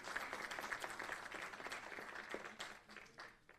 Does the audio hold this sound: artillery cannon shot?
no